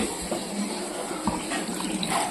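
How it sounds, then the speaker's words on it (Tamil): Soaked whole urad dal goes into a mixer jar along with its soaking water, a continuous close pouring and splashing with a few soft thuds, steady and unaccompanied by speech. "நம்ம இந்த மிக்சி ஜார்ல தண்ணியோடவே ஆட் பண்ண போறோம்"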